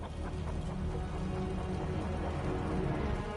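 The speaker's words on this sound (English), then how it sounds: "The rain's getting heavier." Rain falling in the video game Wuthering Waves, a dense continuous hiss of heavy rainfall filling the short stretch at steady loudness with no voices.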